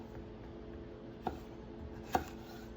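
Knife cutting through raw chicken skin, two faint, sharp cuts over a low steady background hum.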